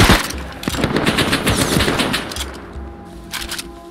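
AK rifle fire in the survival game Rust, a dense, loud stream of rapid automatic shots rattling close by, easing off toward the end with a few more distant bursts.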